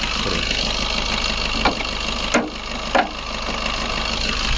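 A 2018 Maruti Suzuki Swift Dzire VDI diesel sedan idles close by, a steady even engine drone with a few brief clicks and bumps breaking through, no talk.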